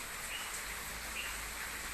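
Heavy rain in Parbhani makes a constant, even wash of hiss, fairly faint and unbroken, with no voices.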